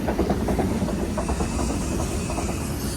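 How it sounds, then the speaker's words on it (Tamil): A train runs past on the coastal line at Cinque Terre, Italy, a continuous mid-distance rumble with rhythmic clickety-clack of wheels over rail joints and a faint hiss, with no voices. "அடுத்த ட்ரெயின் போயிட்டுருக்கு"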